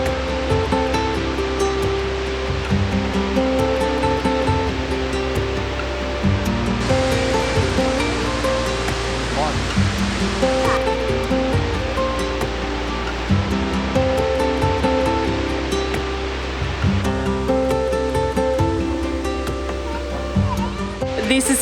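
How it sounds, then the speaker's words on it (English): Wallaman Falls, a tall single-drop waterfall in Australia, roars as a loud, steady, broadband rush of falling water close by, with faint voices now and then beneath it. "There's just like a mist blasting you in the face from this waterfall."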